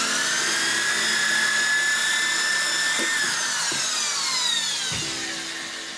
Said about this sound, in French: faut pas me laisser une perceuse